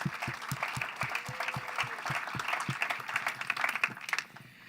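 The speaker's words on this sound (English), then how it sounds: "if we can give a round of applause to all of our amazing data partners" A conference audience at a fintech demo day gives a fairly faint round of applause, with scattered, distinct claps and some distant voices beneath.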